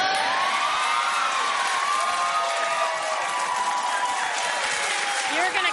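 A studio audience on a late-night talk show cheers, whoops and applauds loudly and continuously, a dense sustained roar of clapping and voices throughout, with a few voices shouting over it.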